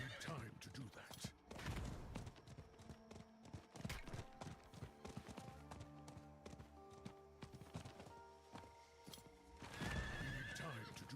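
A video game horse whinnies and its hooves clip-clop in quick rhythmic bursts, set among other game effects, with a player talking over it.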